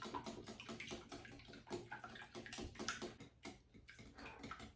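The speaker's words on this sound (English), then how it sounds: "we're going to beat them lightly. And we'll just use the same whisk" A whisk lightly beating egg yolks in a bowl for muffin batter, giving rapid, steady clicking and tapping against the bowl, close and continuous with no talk.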